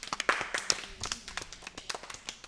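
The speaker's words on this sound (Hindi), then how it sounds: "ताली बजा दीजिए।" Children clap along in a classroom-style group session, a burst of quick, uneven hand claps that thins into scattered, lighter claps, close and moderately loud.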